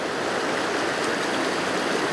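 Lurg Burn, a Scottish stream, flows in a steady, dense rush of water close by, continuous and fairly loud with no voices.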